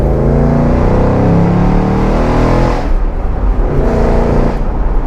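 A 2024 Ford Mustang GT V8 with nearly 500 horsepower accelerating hard up a steep city hill in Vancouver, a loud, continuous engine roar that rises and then dips briefly around gear changes.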